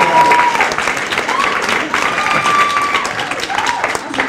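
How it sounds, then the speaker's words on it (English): Loud, continuous applause from a large audience, with cheering and a few whistles running throughout. "Put your hands together for Cam Mesinger"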